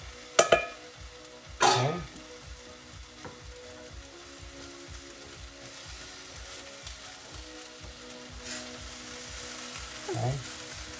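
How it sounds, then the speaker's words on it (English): Pork pieces hit a hot pan for fried rice and sizzle steadily, a loud burst at the start settling into continuous frying with occasional stirring scrapes, and one brief spoken word partway through. "I'm gonna add in my pork."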